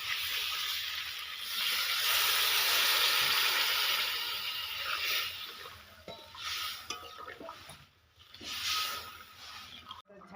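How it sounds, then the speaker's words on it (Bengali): Water poured into frying fish curry with cauliflower in a village kitchen sets off a loud, steady sizzle and hiss that gradually eases, with a few stirring scrapes near the end. "এখন ঝোলের জন্য জল দেব"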